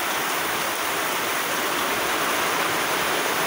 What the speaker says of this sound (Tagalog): Ayan na yung ulan, tumatalsik.